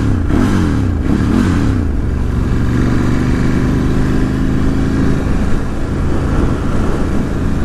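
A 2018 Ducati Scrambler 1100 Special runs with a deep, throbbing twin-cylinder rumble, loud and close, rising briefly in the first couple of seconds then settling into a steady, slightly lumpy drone.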